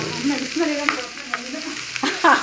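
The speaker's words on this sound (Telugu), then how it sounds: "నేను లో ఫ్లేమ్లో వేయించుకోవాలి" Onions frying on a low flame in a pan for vegetable fried rice, a steady close sizzle broken by a few sharp scraping stirs, with no talk over it.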